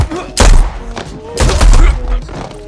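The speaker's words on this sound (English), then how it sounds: "She pulled out her weapon, but was immediately shot by the guards." Guards open fire on a woman in a movie scene: two loud bursts of gunshots with booming thuds, separated by a short gap, mixed with dramatic score and voices.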